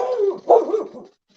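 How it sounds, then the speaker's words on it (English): A dog barks loudly and close, a rough, growly bark run together into one burst, followed by silence. "Stupid dog."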